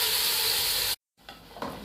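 Chicken hits hot cooking oil in a pan on a stove, a bright, loud hiss of frying that cuts off abruptly, then softer sizzling and crackling returns.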